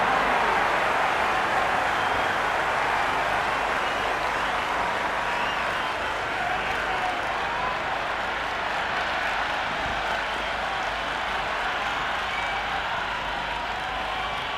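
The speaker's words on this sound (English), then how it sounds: "the crowd have joined the party. It's pretty noisy at the ground." Spectators at a cricket ground during an India vs New Zealand one-day international make a loud, continuous roar of cheering and applause, steady throughout with no break.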